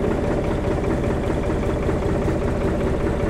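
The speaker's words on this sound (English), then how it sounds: "it's a three-cylinder engine, so those are very, very big cylinders indeed" A three-cylinder tractor engine of about 351 cubic inches, over five litres, idles steadily and loudly up close with a deep continuous throb and no speech.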